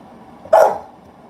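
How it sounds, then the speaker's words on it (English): A single sharp indoor dog bark, loud and close, standing alone against a quiet background. "What are you barking at?"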